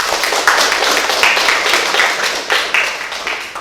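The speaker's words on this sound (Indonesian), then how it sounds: "Beri tepuk tangan." A class of schoolchildren claps together in a steady, dense burst of applause that fills the room at a moderately loud level from start to finish, with no talking heard over it.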